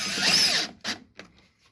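A power screwdriver whines loudly for about half a second as it drives a screw into a hinge on a cat fly-screen mount, then gives a short burst and a few faint clicks as it stops.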